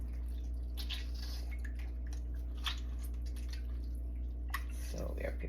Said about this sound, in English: Gonna wash it a couple of times.